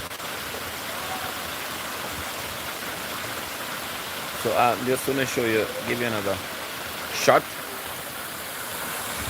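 Brown flood water rushes toward Scotch Pass in Watermouth, Manchester, Jamaica, with a steady broadband roar throughout and someone speaking briefly partway through.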